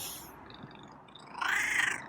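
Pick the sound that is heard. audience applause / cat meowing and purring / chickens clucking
cat meowing and purring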